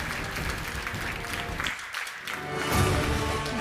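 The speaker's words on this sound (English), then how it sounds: "Let's give our participants another round of applause." An audience at the 2025 IJSO opening ceremony applauds its participants, a short burst of full-room clapping that swells slightly near the end.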